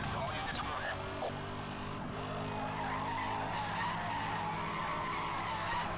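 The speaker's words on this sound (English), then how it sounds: "Drifting, very easy." In the Need for Speed Hot Pursuit racing game, a car drifts with a long, continuous tire screech over a droning engine that holds steady for several seconds.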